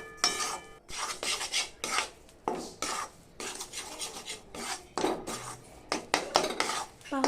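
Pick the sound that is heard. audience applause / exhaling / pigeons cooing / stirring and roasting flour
stirring and roasting flour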